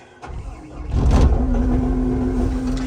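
A CAT 259D3 skid steer starts from cold: a short click and crank, then the diesel catches with a surge and settles into a loud, steady idle with a sustained whine.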